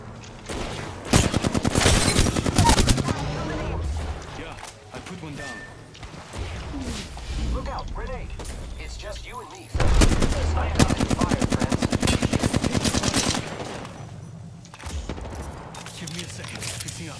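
Bursts of rapid automatic gunfire ring out in a shooter video game, loud and close in two long sustained volleys with short gaps, with a player's voice talking over parts of it.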